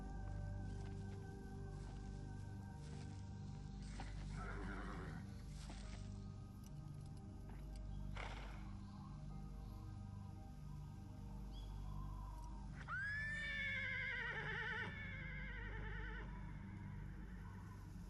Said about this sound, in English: And there's her horse.